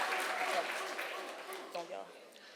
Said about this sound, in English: let's give them a round of applause for showing up.